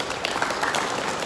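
Audience applause fills a museum hall of contemporary art on Öland, a dense steady wash of many hands clapping at close range, with no talk over it.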